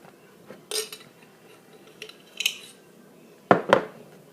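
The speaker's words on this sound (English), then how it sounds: "Now I'm going to butter this other side of the sandwich." A knife scraping butter across sandwich bread, a few soft, short scrapes and clinks spread out, the last pair louder and close, with quiet gaps between.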